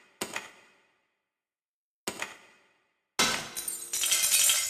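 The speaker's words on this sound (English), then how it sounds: "Destroy the light fixture." Glass light fixture smashed in the video game Skin Deep: two sharp tinkling glass impacts a couple of seconds apart, then a louder, sustained shattering crash with scattering shards.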